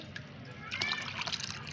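Plain water poured and mixed into diluted homemade plant fertilizer, giving a faint, brief patch of soft splashing and sloshing near the middle, quiet against a low room background.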